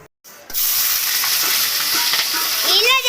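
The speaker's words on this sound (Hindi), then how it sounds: "शिमला मिर्च को हल्का सा फ्राई कर रही हूँ, चिली पनीर बनाऊंगी।" Bell peppers frying lightly in a pan for chilli paneer, a loud steady sizzle starting after a brief quiet moment and continuing close up, with faint stirring scrapes.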